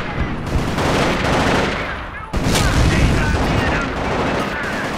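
Loud, dense gunfire in a modern Company of Heroes battle, with overlapping rapid bursts, a sharp blast near the middle and continuous rattling shots through the whole stretch.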